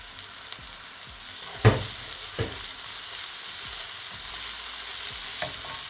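Ground beef for cheesy tacos sizzles steadily in a pan as tomatoes go in, with a few sharp clinks and scrapes of stirring over the constant frying hiss.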